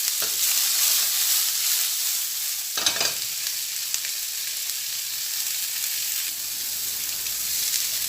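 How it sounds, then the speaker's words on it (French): Endives frying in a little butter in a pan give a steady, bright sizzle close up, with a brief stirring or shifting sound near the middle. "On va les faire frire quelques minutes."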